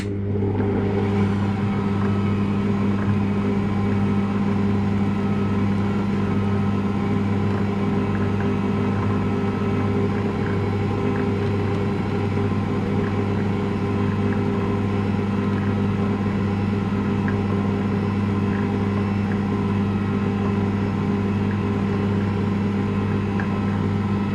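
An Ankarsrum stand mixer runs on speed 1 while cupcake sponge batter is mixed, giving a steady, loud, unchanging motor hum and whir that starts at once and carries on throughout without pauses, close by and with no voices.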